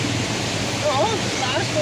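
Water rushes steadily across a flooded road, a broad continuous roar close by, with a voice speaking briefly over it.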